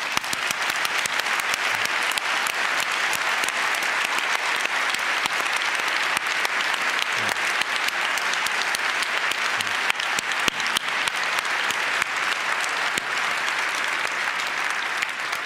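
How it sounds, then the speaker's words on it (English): A conference audience applauds, with sustained dense clapping from many hands that holds at an even level throughout, and no talk over it. "I would invite you to stand up and all of us to make a round of applause for all of these people"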